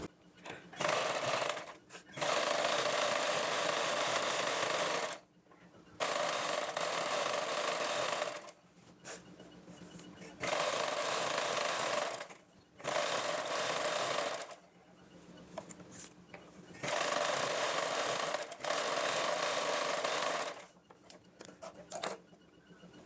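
A sewing machine stitching blouse fabric runs in several long, steady bursts of fast mechanical whirring, with quiet pauses between runs; fairly close but low in level.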